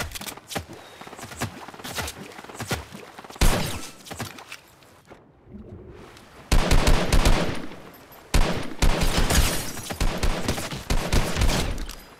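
Fortnite rocket launcher fire and explosions crash out in loud, dense bursts of blasts and booms, with a brief lull midway before the barrage resumes.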